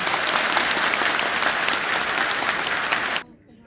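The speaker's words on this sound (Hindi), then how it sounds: "सम्मानित मंच के लिए जोरदार ताली बजाइएगा" Loud, dense applause from a large crowd at a political rally in Bihar, steady clapping that fills the space, then cuts off abruptly near the end.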